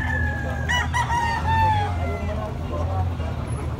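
A young gamecock stag at a quality gamefowl arrival in Carbon, Cebu, crows once loud and near, a rising then falling call over a steady background murmur.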